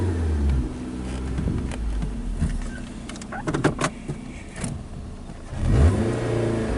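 2012 Nissan Versa with throttle faults, its engine revving in park with a low, rising drone, interrupted by several sharp mechanical clicks and thumps before a final swell of revs.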